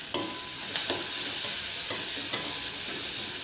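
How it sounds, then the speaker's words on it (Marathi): A spoon scrapes and stirs fried onion with green chili and garlic paste in a pan, steady sizzling broken by several distinct scraping knocks at an irregular rhythm, close and fairly loud, with no talk. "मग त्यामध्ये हिरवी मिरची आणि लसणाची आपण जी मिक्सरमधून बारीक पेस्ट करून घेतली ती यामध्ये मी इथं ॲड केलेली आहे आणि छान मिक्स करून घेतलं आहे."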